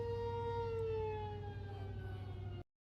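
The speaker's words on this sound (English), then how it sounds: "Tornado sirens are going off for good reason" Outdoor tornado warning sirens wail during a severe storm, a steady tonal howl with layered harmonics drifting slowly downward in pitch, fairly distant and sustained until it cuts off abruptly near the end.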